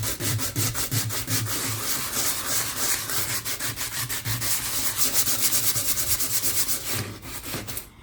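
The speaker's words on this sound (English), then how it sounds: "See if I can get them somewhat sanded down so I can paint over them to protect it from rusting anymore." Rusty spots on a cargo van body being converted to a camper are hand-sanded, giving steady, close, raspy back-and-forth strokes that run continuously with a brief pause near the end.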